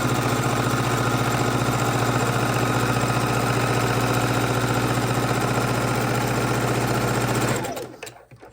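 Sewing machine stitching quilt strips together with quarter-inch seams, giving a loud, continuous mechanical whir with a rapid needle rhythm that runs steadily for several seconds, then stops.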